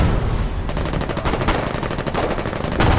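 Rapid tank cannon and machine-gun fire in the Foxhole video game, a dense continuous barrage of loud overlapping shots with sharp bursts throughout, no talking.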